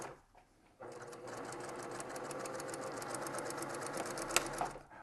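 A sewing machine runs steadily for about four seconds, stitching blue flange binding on a quilt right to the very end after a short quiet start, close and clear with no talking.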